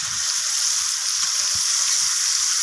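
Chicken pieces fry in a pan with onion, tomato and capsicum, a loud continuous hiss with soft low knocks of stirring underneath.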